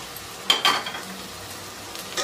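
Chicken curry masala with mint and curry leaves sizzles softly in a pan, broken by a few clinking spoon-on-pan strokes and scrapes as it is mixed, with low steady frying underneath.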